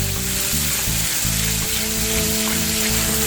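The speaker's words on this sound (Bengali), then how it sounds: "এবার মশলার মিশ্রণটা যে গুলিয়ে রেখেছিলাম জলে দিয়ে দিচ্ছি। আবারও নেড়ে নিচ্ছি, মশলাটা কষে নিচ্ছি।" A spice paste mixed in water hits hot oil for a Bengali fish curry, giving a loud, dense, continuous sizzle close by with steady frying crackle throughout, and no talking.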